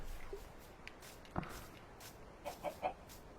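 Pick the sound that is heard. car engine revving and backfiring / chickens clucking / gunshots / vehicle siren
chickens clucking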